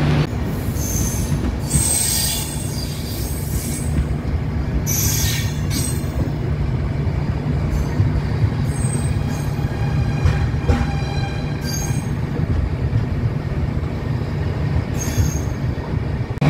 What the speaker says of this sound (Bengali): ট্রেন আমাদের পৌঁছে গেল আলিপুরদুয়ার জাংশনে